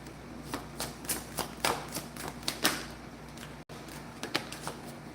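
Tarot cards are shuffled by hand at close range, a run of crisp riffling taps and flutters in irregular bursts with a short pause between shuffles.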